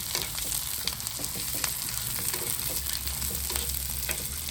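Chalai (sardine) fish fry in hot oil with a dense, continuous sizzle and crackle, steady and close throughout, with faint scattered spits and pops.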